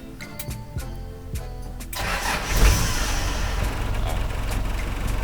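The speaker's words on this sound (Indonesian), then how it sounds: "Ini getarannya lebih lebih keras daripada mesin standar." A Daihatsu Taft GT 4x4 fitted with a swapped-in truck engine is cranked and catches, then runs with a loud, rough, rumbling idle that stays steady after starting.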